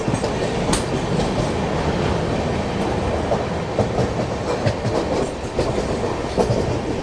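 A Mumbai express train runs at night alongside local trains, its steady loud rumble of wheels on track carrying a continuous clickety-clack with no voices.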